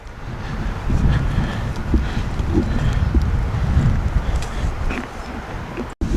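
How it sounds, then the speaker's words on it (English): Strong wind gusts outdoors batter an umbrella, a dense, loud, close rumble of buffeting across the mic with brief knocks and flaps, and a sharp dropout near the end. "Look what the wind just did to my umbrella."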